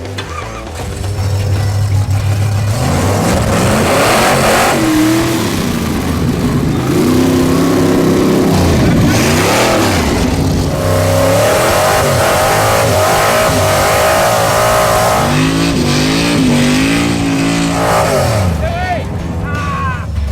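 An old drag race car engine revs hard while being driven on a backyard test track, loud rising and falling bursts of throttle over a constant rumble, with people talking in the cabin.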